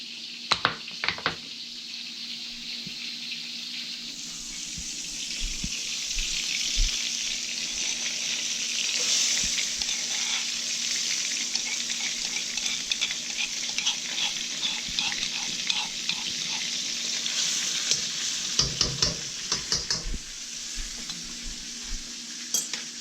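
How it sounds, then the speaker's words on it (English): Garlic frying slowly in a pan for garlic noodles, giving a steady bright sizzle that builds after a few seconds and holds, with scattered clinks and stirring scrapes close by, busier near the end. "the first thing we're gonna cook, of course, is the garlic"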